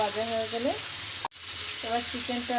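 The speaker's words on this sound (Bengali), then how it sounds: "এখন এটা চিকেনটাকে ভেজে নিব" Chicken frying in a pan on the stove gives a steady close sizzle, broken by a brief sharp dropout midway, with faint tonal sounds running underneath.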